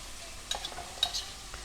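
Two large onions dropped into a hot pan and stirred, a soft sizzle with a few scraping clinks of a utensil, close and fairly quiet with no talk.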